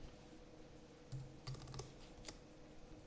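A few quick keystrokes on a computer keyboard while entering text into an Excel spreadsheet, sparse taps in short clusters against a quiet room hush.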